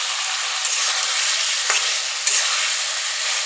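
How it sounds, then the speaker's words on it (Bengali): Fried potato and pointed gourd pieces stirred in spice masala in a hot pan, giving a steady close sizzle with a few sharp spoon scrapes, no voices. "মশলার সঙ্গে খুব ভালো করে নেড়ে চেড়ে কষিয়ে নেব।"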